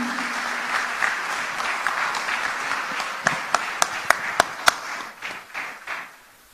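Crowd applause welcoming Chief Minister Chandrababu Naidu at a Christmas celebration, a steady moderate wash of clapping with several sharp, close individual claps standing out before it thins and fades.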